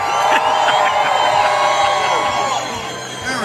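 A large live crowd cheers loudly for an adult beverage at an event, a sustained roar of shouts and whoops that slowly fades near the end.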